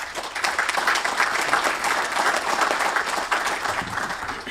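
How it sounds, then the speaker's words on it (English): Audience at a maintenance and pavement management presentation breaks into steady applause for the speakers, a dense, even wash of many hands clapping at close range with no talk over it. "Let's give them a round of applause."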